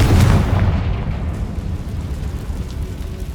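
A Confringo blasting spell explodes in the Hogwarts Legacy video game, giving one deep, rumbling boom that starts loud and fades over a few seconds, heard alone with no talk.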